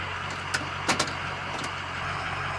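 A pickup truck engine drones low and steady while driving, with a couple of brief clicks and rattles near the start. No distinct turbo whine stands out.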